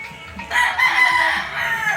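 A fighting rooster crows loudly nearby, one long drawn-out call rising after a brief quiet start, with faint farmyard background.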